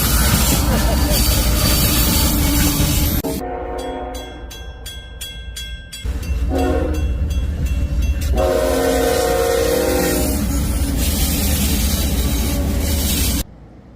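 Model train running on a layout, a steady loud rumble and clatter of wheels broken by a clear sustained train horn blast partway through, close and dominant.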